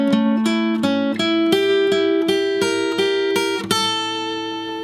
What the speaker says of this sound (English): Here I broke out on my own and I threw in a nice arpeggio line that I like to use.